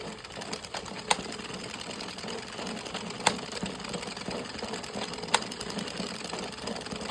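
Hand-cranked circular knitting machine working rows of yarn for a pom pom snowman, a steady mechanical whirring and rattling with a few sharp clicks, moderately quiet and without voices.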